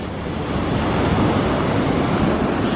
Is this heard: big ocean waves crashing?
yes